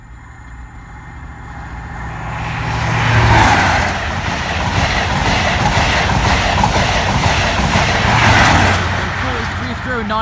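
A Northern Lights railtour train with a York National Railway Museum locomotive on the front passes Norwell Lane level crossing, a loud, close, steady roar and rumble of wheels and engine that swells and fades over ten seconds.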